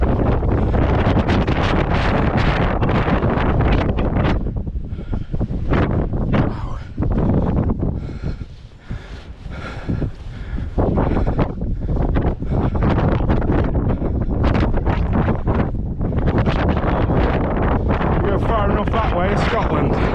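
Strong gusting wind buffets the microphone on an exposed hike along Hadrian's Wall at Walltown Crags, a loud continuous roar that eases briefly in the middle before surging back.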